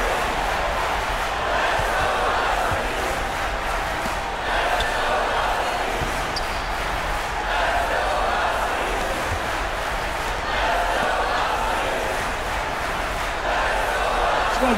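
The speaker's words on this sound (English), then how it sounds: "Crowd's going crazy." Crowd cheering in the NBA 2K17 basketball video game, a steady roar of arena noise with swelling waves of cheers and faint ball bounces, continuous and moderately loud.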